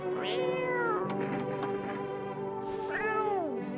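A cat meows in a video game, giving one drawn-out meow at the start and another near the end. Soft clicks and game sounds fill the gap between them.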